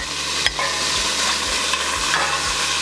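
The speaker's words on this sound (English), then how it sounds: "what we're gonna do is finish browning off all of the gator meat" Alligator meat browning in a hot pan, a steady close sizzle with a few scraping stir strokes across the surface and no talk.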